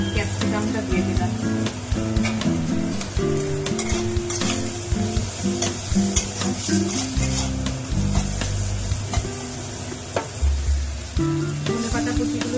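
Capsicum sizzles loudly in a hot pan for egg chowmein, with constant frying crackle and repeated scraping and stirring strokes from a spatula throughout.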